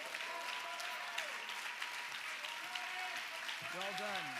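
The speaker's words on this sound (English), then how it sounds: "And keep applauding for him." An audience at a school fine arts banquet applauds with steady, dense clapping throughout, while a person speaks over it near the end.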